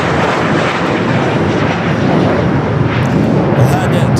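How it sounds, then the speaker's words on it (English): A United Boeing 787 Dreamliner jet departs LAX, its engines a loud, steady broadband roar filling the whole clip with no pause. "United Flight 2096, the Dreamliner number 3 now for Southside departure."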